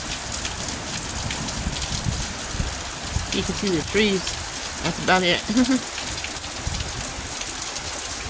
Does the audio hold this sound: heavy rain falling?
yes